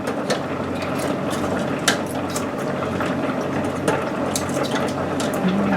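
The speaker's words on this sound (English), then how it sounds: "Just slip them right off there if you hold them under that cool water" Boiled potatoes are peeled under a steady stream of cool running tap water, a continuous splashing rush with small scattered clicks and knocks throughout.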